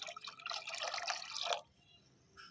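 Plain water is poured into a container to make up about ten liters of fermented flower fertilizer for hibiscus, rose and jasmine plants. It gives a steady, loud splashing rush for about a second and a half, then stops abruptly, with no talk.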